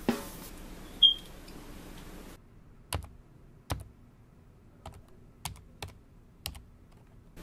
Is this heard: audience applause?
no